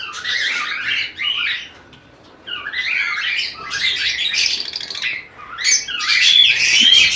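Breeding pairs of lovebirds squawking and chirping in a cage, shrill, harsh calls coming in overlapping bursts, close and loud, with brief lulls between.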